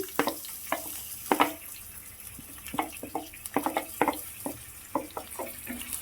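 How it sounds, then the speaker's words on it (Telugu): Green chillies fry in hot oil with a light background sizzle and irregular crackling pops and sputters, close and fairly quiet, with no talk. "నేను సరిపడా ఆయిల్ తీసుకున్నానండి ఇంకా అది వేడి రాగానే పై పచ్చిమిర్చి యాడ్ చేసుకుంటున్నాను"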